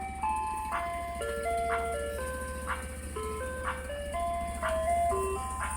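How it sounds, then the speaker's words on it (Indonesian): Toy ice cream truck playing its chiming electronic jingle, a tinny looping melody of bright repeated notes over a constant low hum, close and steady throughout. "Dan ini mobil es krim."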